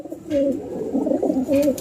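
Punjabi pigeons kept for sale coo in short rounded phrases, several close, fairly loud calls in quick succession with a faint voice in the background.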